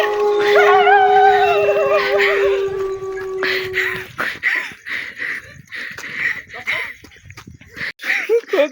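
A dog howls loudly up close, long wavering cries rising and falling for several seconds, then gives way to shorter yips and whimpers mixed with nearby voices talking.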